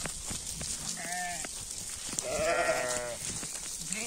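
A pregnant sheep for sale bleats twice, close by: one short call, then a longer wavering bleat, over faint background noise and soft talk.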